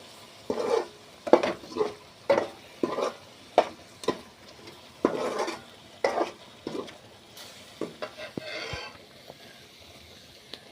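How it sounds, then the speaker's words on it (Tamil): Oil sizzles steadily while a spoon scrapes and stirs spice powder frying in oil in a pan for brinjal kara kuzhambu, with regular rhythmic strokes, close and fairly loud. "இப்போ இந்த எண்ணெயில் வந்து பொடி கொஞ்சம் கிளற மாதிரி பண்ணோம்னா"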